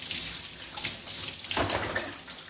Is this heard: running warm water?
yes